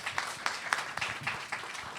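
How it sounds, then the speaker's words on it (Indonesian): A small audience at a digital marketing event claps with scattered, uneven hand claps for about two seconds at moderate distance. "Tepuk tangan dulu dong sekali lagi."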